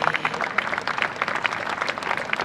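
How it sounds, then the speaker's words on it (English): An audience at a college placement celebration applauds staff, coordinators and block in-charges, the dense clapping steady and sustained throughout with a busy crowd texture. "I think you should appreciate them with a big applause today."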